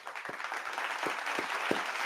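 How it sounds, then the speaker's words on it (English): A canned applause sound effect plays fairly quietly during a season wrap-up show, a soft continuous wash of many clapping hands with a few sharper claps standing out. "Can I put on the applause?"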